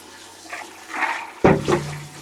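Water running and splashing in a bathroom sink while new fish tank equipment is rinsed, soft flow at first and then a louder gush of water.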